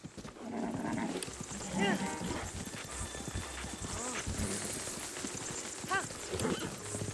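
A horse in the video game Breath of the Wild trots along, giving steady clip-clop hoofbeats mixed with game noises and occasional short snorts or whinnies, moderately loud throughout.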